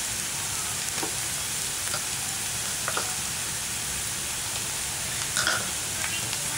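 Ginger garlic paste sizzling with softened onions in a hot pan, a steady close frying hiss with faint scrapes of stirring, no talking.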